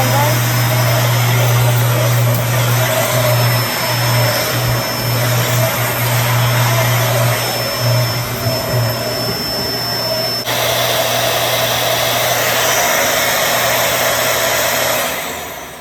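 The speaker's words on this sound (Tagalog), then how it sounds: "Vacuum na tayo guys." A vacuum cleaner runs inside a walk-in closet, its loud steady motor drone continuing for the whole stretch, with a brief shift in pitch partway through as it is moved.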